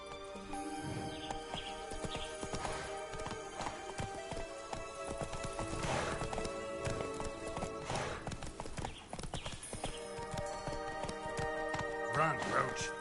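Roach the horse gallops in The Witcher 3, with quick rhythmic hoofbeats continuing throughout alongside occasional whinnies, set under game music and spoken voices.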